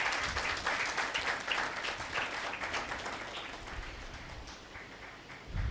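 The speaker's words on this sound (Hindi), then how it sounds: "आए इस कामयाबी के लिए खुदा की शुक्रगुजारी की तालियां बजाएं।" A church congregation at a Sunday meeting applauds together, a steady patter of many hands that sounds fairly soft and slightly distant, tapering off gradually toward the end.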